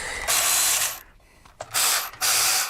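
A socket wrench loosens 7/16 banjo bolts on a motorcycle air cleaner. It makes two loud, close bursts of rapid ratcheting, separated by a brief pause and a clack.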